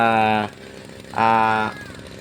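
A hard-starting grass cutter engine gives two short buzzing bursts about half a second each, separated by a brief lull, loud and close.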